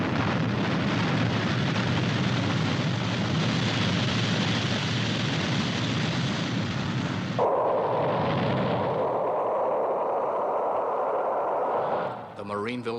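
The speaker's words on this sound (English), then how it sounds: "The mighty rocket was launched on schedule." A mighty rocket launching in the Stingray puppet TV series, a long loud continuous roar that shifts into a higher engine whine near the end.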